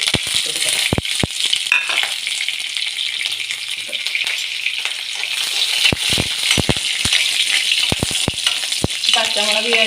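Two chopped green chillies fry in hot oil with a continuous crackling sizzle, broken by sharp clicks and scrapes as they are stirred, close and loud with no talking.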